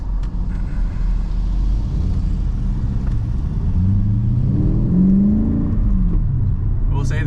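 A Mercedes CLK550 with an M273 V8 and manual swap rumbles steadily while driving, then revs with a rising whine before easing off.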